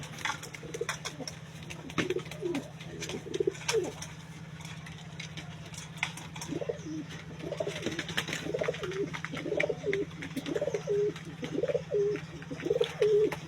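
Pigeons kept in a cage coo in soft, repeated, throaty phrases near the microphone, with a faint steady hum and occasional light tapping and fluttering behind them.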